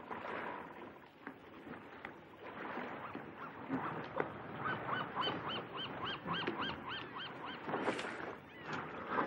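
Goose-like honks ring out at sea, a series of nasal calls rising mid-way and repeating toward the end over a soft background of water and movement.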